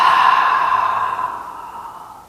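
A long, steady breath pushed out through the mouth while the belly tightens, a soft airy exhale that fades gradually over a couple of seconds, close and clear with no talking.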